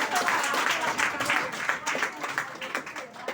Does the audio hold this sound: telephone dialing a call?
no